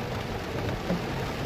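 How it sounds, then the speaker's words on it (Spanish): Heavy rain pours steadily over the city of La Unión near the mother's monument, a continuous soft hiss of falling water that is moderately quiet and unbroken for the whole moment. "está lloviendo bien fuerte"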